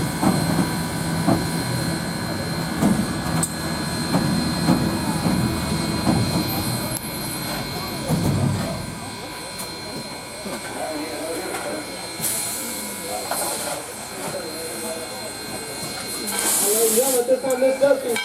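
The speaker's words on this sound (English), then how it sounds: "our 1904 steam locomotive, number 630" The 1904 steam locomotive number 630 at the Tennessee Valley Railroad turntable gives a loud, sustained hiss of steam with a rumbling undertone that fades midway, then bursts of hiss return near the end while a person talks.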